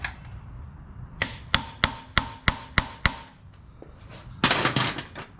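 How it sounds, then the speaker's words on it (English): Seven sharp, evenly spaced hammer taps drive a timing gear into place on a 1950 BSA B33 motorcycle engine, close and crisp, followed by a louder clattering rattle of metal parts near the end. "We'll push that gear in. Give it a tappy tap."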